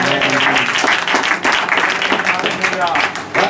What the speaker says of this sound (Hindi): हम तालियां मारकर धन्यवाद देंगे।